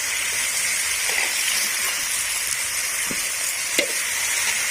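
Water spinach stir-frying in a well-used old wok, a loud, even hiss of hot oil and steam that runs throughout, with a few faint clicks of the utensil and no speech.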